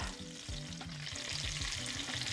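Meat frying in rendered fat in a pan over medium-low heat for a carnivore-diet recipe, a steady close sizzle with bursts of crackle and a couple of bumps as a piece is moved, no talking.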